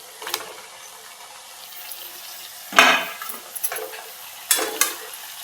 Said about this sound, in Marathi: छान असं परतून घ्यायचं आहे